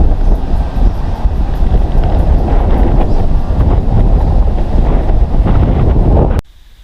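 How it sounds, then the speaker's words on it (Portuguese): Strong gusts batter the microphone at a beach campsite in Prado, Bahia, Brazil, a loud, constant roar of buffeting wind that cuts off abruptly near the end. "Ventania, uma ventania hoje."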